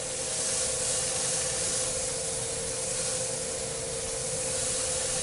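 A calabash bowl of Aloha almond wood from Hawaii is sanded with fine grit, a continuous, even, hissing abrasion with a faint steady tone underneath, unbroken by pauses or speech.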